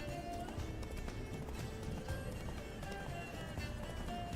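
Roach the horse galloping in The Witcher 3, a steady rapid clip-clop of hooves under a dense game soundscape with continuous background noise.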